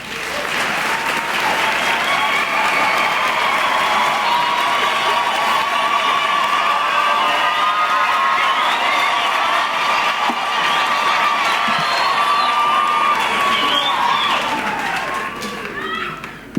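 Large crowd at a University of Johannesburg graduation ceremony applauding and cheering, loud sustained clapping with whoops and shouts throughout, tapering off near the end.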